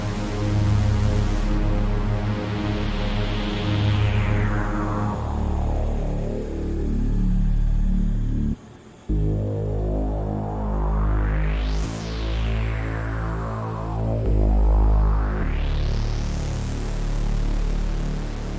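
A lush synthesizer pad from Arturia Pigments 4 drenched in shimmering shimmer reverb, with sweeping rising and falling tones and a brief dropout midway, no voices.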